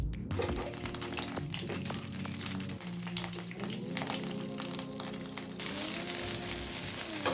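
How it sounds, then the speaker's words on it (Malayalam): Soya chunks shallow-frying in oil over a low flame make a continuous crackling sizzle, with a low hum and occasional clinks of a utensil moving them around the pan. "അതേ ഓയിലിൽ soya chunks fry ചെയ്തിട്ടെടുക്കാം. Deep fry അല്ല ചെയ്യുന്നത്, ഷാലോ ഫ്രൈ ആണ് ചെയ്യുന്നത്."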